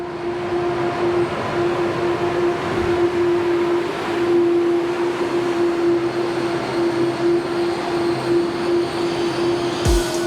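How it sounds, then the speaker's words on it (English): A high-speed train arriving at a station in Laos, a loud, steady rumble with a sustained hum, passing close and continuous throughout. "That's not the train I was expecting to pull up, to be honest."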